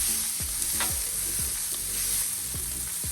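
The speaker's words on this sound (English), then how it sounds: "I'm going to go ahead and flip the filet." Filet steak sizzling on a Blackstone griddle just after being flipped, a loud continuous sizzle with repeated low thumps and scrapes from a spatula.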